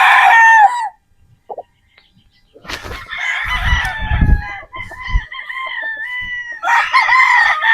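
A Sweater Boston White gamefowl rooster crows loudly and close by, opening with one crow, then a stretch of clucking and scratchy farmyard noise, and ending with another long crow.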